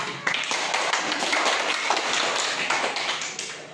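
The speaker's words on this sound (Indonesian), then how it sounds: "Kelompok 2 dan 3, tolong tepuk tangan." Classroom students clapping their hands, a dense burst of many close, quick claps filling the room, continuous and fairly loud.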